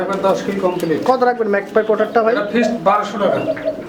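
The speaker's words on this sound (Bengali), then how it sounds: "সেই সুন্দর কবুতর আছে" Pigeons coo at a pigeon farm in soft, repeated calls, mostly buried under loud, close conversation throughout.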